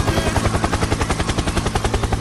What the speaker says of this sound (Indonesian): Helikopter, teman-teman. Helikopter,